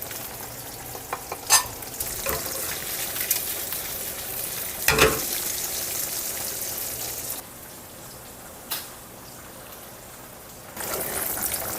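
Sausage sizzling and frying in a pan that had been infused with garlic, a steady close crackle with a few louder spits and stirring scrapes, easing briefly before the sizzle swells again.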